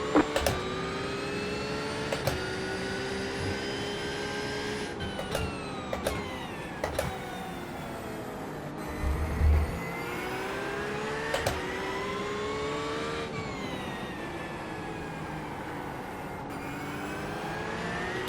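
Race car engine on track at Portimao, a continuous loud high-pitched whine that shifts up and down in pitch through gear changes, heard steadily throughout with occasional low thumps.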